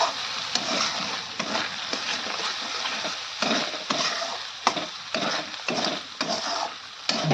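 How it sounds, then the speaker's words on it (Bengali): A spice masala of turmeric and chilli powder sautés in a pan for a potato dum, a dense continuous sizzle broken by regular scraping stirs and light metallic taps. "ভালো করে মশলাটাকে কিন্তু কষাতে হবে।"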